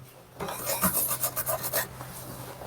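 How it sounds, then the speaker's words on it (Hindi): A brush scrubs dust off an electronic circuit board with carbon-fouled pins, giving a run of close, quick rasping strokes over about a second and a half, with quiet room tone before and after. "ब्रश दो, ब्रश से क्लीन कर लेते हैं इसको पहले।"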